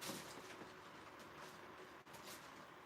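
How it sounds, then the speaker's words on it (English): An N scale model train runs along its track, a faint, steady rolling rumble with light rhythmic clicks and one brief dip partway through. "I'm going to throw this turnout while the train is moving."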